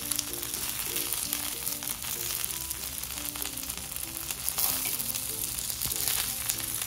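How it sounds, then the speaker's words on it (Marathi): Breakfast pieces shallow fry in oil until crisp and golden, a continuous moderate sizzle close by, with occasional scraping and tapping as they are flipped in the pan. "छान भाजल्या ना का लय मस्त छान लागतात, त्याच्या खरपूस होतात। अशा सगळ्या पलटी मारून घ्यायची।"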